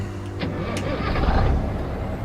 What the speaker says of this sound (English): let's bring the old engine back on